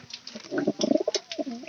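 Racing pigeons give a few soft, throaty coos in quick succession, close by and fairly quiet, with no voices.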